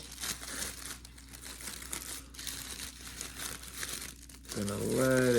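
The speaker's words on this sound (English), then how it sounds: "we're gonna unwrap it like a Christmas present, and we're gonna be very careful" Wrapping around a Buick Grand National or T Type model car package crinkles and tears as it is peeled open, steady close rustling throughout, ending with a voice speaking.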